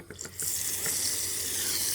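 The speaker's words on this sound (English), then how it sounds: "we have running water" Steady rush of water pouring from a tap, starting abruptly after a few faint clicks and continuing loud and even to the end.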